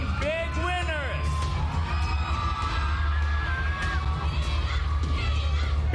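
A crowd shouts and cheers for the PBB Big Night big winners at a live show, with whoops and yells over a dense, steady roar and some talking mixed in.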